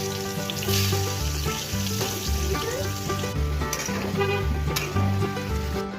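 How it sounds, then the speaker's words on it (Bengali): Potatoes fry with turmeric in oil in a kadai for a spicy chicken curry, giving a loud, close, steady crackling sizzle over tuneful background music. "এবার কড়াইতে তেল দিয়ে একটু হলুদ দিয়ে আলুগুলো ভেজে নেব ভালো করে"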